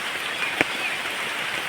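Rain falls steadily outdoors, a dense continuous hiss with a few sharper nearby drips or taps standing out, with no one speaking.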